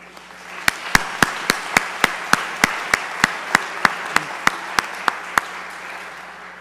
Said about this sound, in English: Let's give ourselves a round of applause for the money that we have given towards